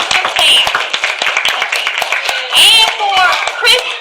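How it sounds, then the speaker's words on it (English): Audience applause at a church vacation Bible school at Beacon Baptist Church: a loud, steady patter of clapping with excited voices calling out over it. "Let's give a big round of applause for Camp Counselor Sam."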